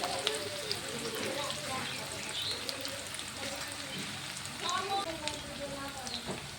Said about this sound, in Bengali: মিডিয়াম সাইজের দুটো পেঁয়াজ কেটে কুচি করে রাখা সেটা আমি তেলে দিয়ে দিলাম।